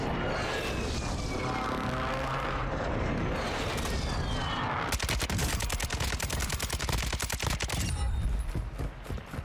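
Gunfire in the Warzone 2.0 video game in Al Mazrah City: a rapid, sustained automatic burst cracks for several seconds after a stretch of rumbling, distant battle noise.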